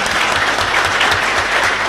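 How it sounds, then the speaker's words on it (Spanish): Loud, dense applause from a church congregation fills the space, steady clapping from many hands close by with no voices over it. "de verdad un fuerte aplauso para él"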